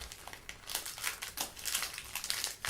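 Plastic wrapper of a semi-sweet Lebkuchen dark chocolate bar being torn open, close crinkling and rustling in uneven bursts with a sharp crackle near the end.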